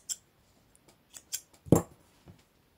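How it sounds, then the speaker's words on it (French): Scissors snip through crochet yarn while finishing a baby's kimono-style bootie, giving one crisp close cut with a few faint handling clicks before it, quiet and with no talking. "Ensuite, on va couper le fil."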